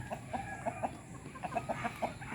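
Hens on a rural farm give a run of soft, rhythmic clucks at moderate distance over a faint steady background hum, with no talking.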